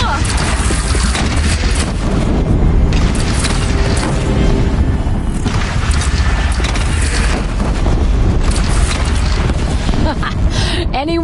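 Cannon fire and battle din in Horizon Zero Dawn, loud booming blasts over constant clanking mechanical noise and a dense rumble, with voices speaking over the fighting.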